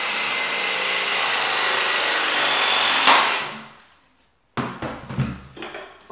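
A press tool with a 20 mm (3/4) head clamps a multilayer pipe fitting, a loud steady whine for about three seconds that winds down to silence, followed by several sharp clattering knocks as the tool is handled.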